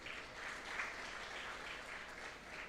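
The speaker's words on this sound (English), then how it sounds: "So can we give a big round of applause for Prudential?" Conference audience applauding in a large gathering, a steady even wash of clapping, fairly faint and distant, with no talk over it.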